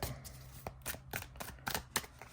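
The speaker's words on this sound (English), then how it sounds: "Let me shuffle these up a couple of times." A deck of tarot-style oracle cards is shuffled by hand a few times, giving a series of soft riffling and tapping bursts, close and fairly quiet, with no talking.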